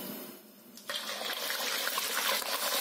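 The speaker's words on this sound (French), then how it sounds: "je vais mettre un poisson pour être sûr que mon huile est chaude" A fish drops into hot oil in a wok for Senegalese yassa, setting off a sudden loud sizzle that keeps crackling and hissing steadily after a quieter start, with no talk.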